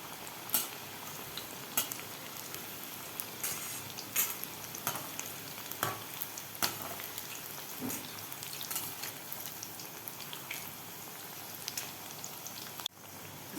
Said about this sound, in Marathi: नंतर आपल्याला मिडियम गॅसवर हे भजे व्यवस्थित गोल्डन कलर होईपर्यंत तळून घ्यायचे आहेत